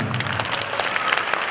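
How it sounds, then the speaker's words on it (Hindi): An audience claps together at an event where deaf and mute performers dance, giving steady, dense applause throughout without any talking. "आप सभी को एक बार रामदेव बाबा की तरह ऊपर हाथ करके सबके लिए ताली बजाना"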